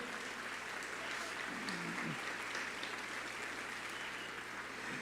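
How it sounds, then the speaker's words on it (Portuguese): A church congregation applauds in a soft, continuous wash of distant clapping, with a faint tonal hum behind it. "pode aplaudir ao Senhor"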